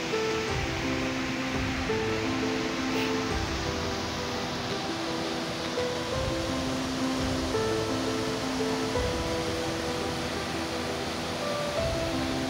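A small river rising on the slopes of Mount Welirang flows behind a café, a steady, dense rush of water that holds even from start to finish with no pauses and no voices.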